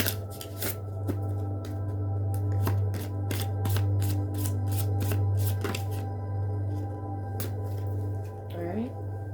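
Tarot cards shuffled by hand in a rapid run of crisp riffling flicks over a steady low hum, with faint speech in the background.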